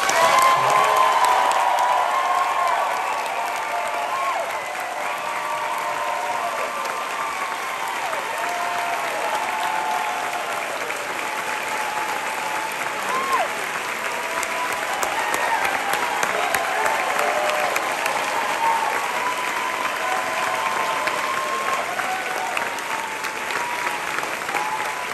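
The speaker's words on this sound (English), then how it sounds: "Can you put your hands together and cheer one more time for the people who originally inspired this?" A Broadway theater audience at a closing-night curtain call applauds and cheers, dense sustained clapping with scattered whoops, loud and continuous throughout, strongest at the start.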